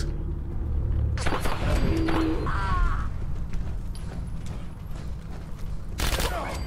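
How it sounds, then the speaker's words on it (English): Rapid pistol fire in Fallout 4, bursts of quick shots and crackling impacts over a rumbling background, with mechanical clicks and a fresh volley near the end; a voice talks over part of it. "pistols that have an alarmingly high rate of fire"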